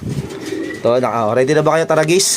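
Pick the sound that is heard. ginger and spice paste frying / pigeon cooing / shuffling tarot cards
pigeon cooing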